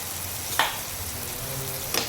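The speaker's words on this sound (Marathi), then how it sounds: "आता हे चांगलं असं परत परतून घ्यायचं मसाला आपला चांगला परतून घ्यायला पाहिजे" Masala with turmeric and green chillies sautéing in a pan for an aubergine bharit makes a soft, steady sizzle, broken by two sharp spatula scrapes.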